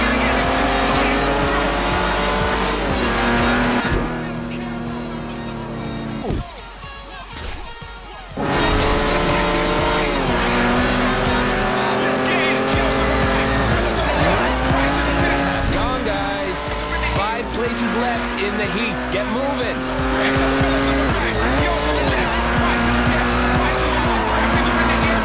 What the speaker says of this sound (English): People racing towards the festival here in all sorts of rides.